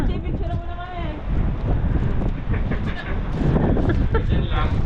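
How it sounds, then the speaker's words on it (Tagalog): Strong gusting wind buffets the microphone in a steady roar, with voices talking underneath. "Oo, malakas ang hangin eh"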